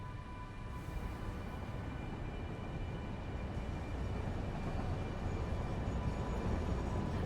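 A train rolls along in the factory-building video game Satisfactory, a steady broadband rumbling roar with a faint tonal hum that swells slightly over several seconds, with no talk.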